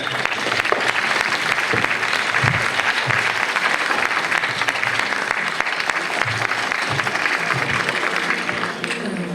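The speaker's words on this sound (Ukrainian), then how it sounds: "Івана Ворошилюка аплодуємо" Festival audience applauds a performer at the 2015 Ruthenia festival, a dense, steady wash of clapping from a large crowd that holds for about nine seconds with scattered low thumps underneath.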